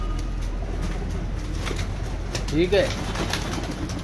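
Teddy and golden pigeons in a breeding setup give a brief, close coo partway through, under a steady background hum while someone talks.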